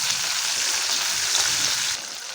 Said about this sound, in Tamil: இப்போது வெங்காயம் நல்லா வதங்கட்டும்